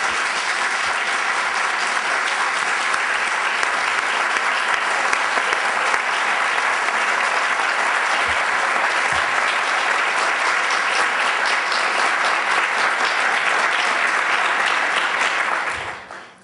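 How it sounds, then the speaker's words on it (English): A large audience at a conversation event with a former president of Chile gives loud, sustained applause, a dense and even roar of clapping that holds steady for about sixteen seconds before quickly fading out. "I think this applause shows that President Bachelet is one of the most outstanding leaders and politicians of our times."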